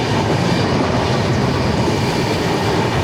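Duronto Express 12284 running along the rails beside the Bharathapuzha river near Kuttippuram, a steady loud broadband rumble of wheels and carriage noise heard from inside an AC 3-tier coach, continuous throughout.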